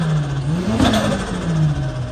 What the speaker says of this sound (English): Can we have a couple of revs before you set off?